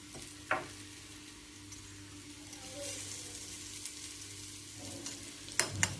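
Chopped onion fries in a pan for a Maharashtrian gavar thecha, giving a steady low sizzle with a few sharp clinks and stirring scrapes, close and moderately quiet, with no talking.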